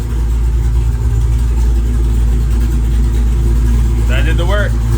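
The repaired Hellephant engine idles on its own with a steady, loud, deep rumble and never revs. Near the end a short, high whine or squeal briefly rises over it.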